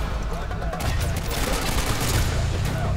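Dense, continuous automatic gunfire from Call of Duty Modern Warfare 2 rattles on for several seconds, loud and close, with voices mixed into the battle.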